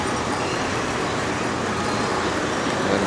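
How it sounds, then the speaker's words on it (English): Roadside traffic at a coach stop on the land route from Bangkok to Trat in eastern Thailand: a continuous broadband rumble of passing buses and cars, steady and moderately loud, with no talk over it. "this is a stop area on the land route from Bangkok to Trat by bus"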